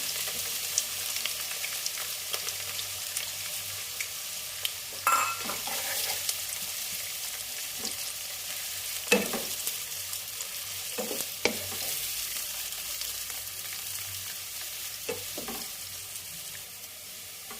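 Chopped onions fry in hot oil in a pan, a soft continuous sizzle broken by occasional stirring scrapes, close and moderately quiet, with no voices.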